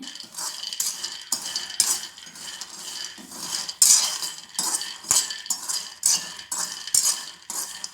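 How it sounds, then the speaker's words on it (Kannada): Peanuts stirred and roasted in a pan while making moong dal laddu, giving close, steady scraping and rattling with repeated clinks of a utensil against the metal, in a fairly even rhythm and with no talk. "ಈಗ ಇದಕ್ಕೆ ಶೇಂಗಾ ಬೀಜವನ್ನು ಹಾಕಿ ಅದನ್ನು ಸ್ವಲ್ಪ ಹುರಿತಾ ಇದ್ದೇನೆ"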